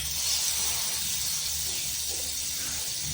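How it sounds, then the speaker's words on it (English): A cheese sandwich roasts in a pan with a continuous, even sizzle and hiss, close and steady, under a faint low hum and with no talking. "Now roast another cheesy sandwich."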